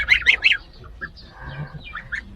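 Geese on a farm field give three sharp, close honks in quick succession, followed by softer scattered calls and rustling as they go after freshly pulled weeds.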